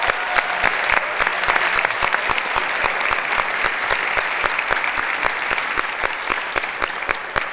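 An audience at a state poetry recitation competition final gives sustained applause for the participants. Many hands clap loudly and evenly for the whole stretch, with faint crowd murmur underneath.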